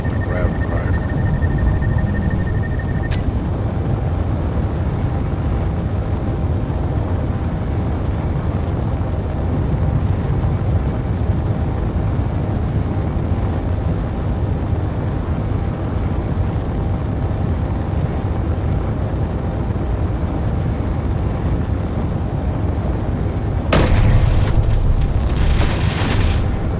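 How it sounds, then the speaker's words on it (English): Grav drive running in the game Space Engineers, a deep, steady rumbling drone that holds for the whole stretch, with a brief harsher burst near the end. "Grav drive is definitely doing her job."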